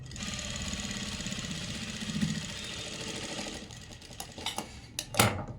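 A sewing machine stitches a velvet trouser pocket with a steady, close, rapid whirring run, then slows into a few separate clicks and thumps as the stitching stops.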